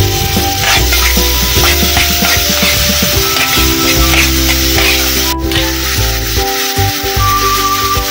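Onion paste dropped into a hot pan for pav bhaji sizzles loudly and continuously, a dense frying hiss with stirring scrapes running for the whole stretch.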